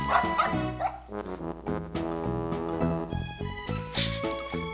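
A dog in the Boot Hill Heroes video game gives a few short, synthesized barks and yips over steady game music, with no voices alongside.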